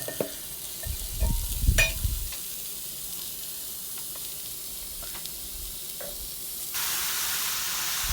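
Three large, finely chopped onions fry in a pan with a steady soft sizzle; a few low scraping stirs and clatters come near the start, then an even hiss continues alone.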